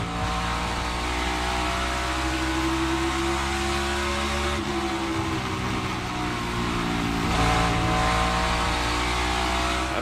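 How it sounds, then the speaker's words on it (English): A NASCAR stock car at a night-race practice roars under heavy throttle, a loud sustained engine whine rising and shifting in pitch as the driver gets back on the gas, with no voices. "I'll tell you, Jeff, they are back to the throttle with some aggression, aren't they?"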